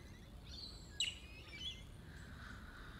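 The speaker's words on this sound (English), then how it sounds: "can you hear these amazing birds?" Birds chirp faintly in the hills near Adelaide, a few brief distant tweets and calls over a quiet, steady outdoor background with no talking.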